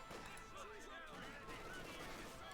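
MG42 machine gun fire in Company of Heroes 2, sustained bursts of automatic gunfire mixed with battlefield clatter, steady and dense throughout, with a commentator's voice talking over it.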